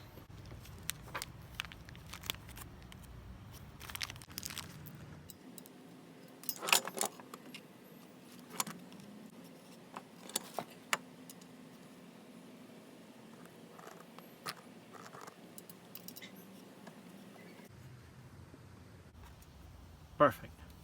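Small metal Allen screws clink and rattle in scattered bursts during assembly of a portable rolling TV or PC monitor cart, close and light, with someone talking in between.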